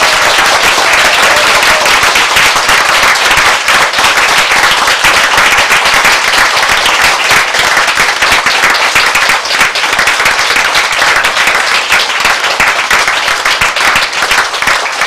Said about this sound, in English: Big clapping episode